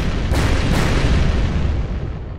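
Explosions in the video game Purgatory 2 blow apart an escape entrance, a dense, loud rumbling blast with a couple of sharper bursts early on, sustained and alone.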